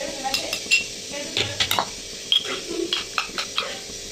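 A spoon clinks and scrapes against metal while scooping a ground, powdery mixture out of a grinder jar into a bucket, giving irregular close taps and knocks with short pauses between.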